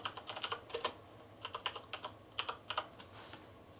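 Fingers tap out a web address on a computer keyboard, producing quick bursts of light clicking keystrokes in uneven rhythmic clusters, close and clear with no talking.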